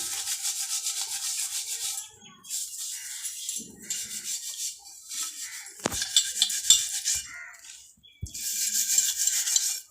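A brass vessel is scrubbed clean by hand, with close, harsh rubbing strokes in several long bursts separated by brief pauses and a few clunks of the metal pot.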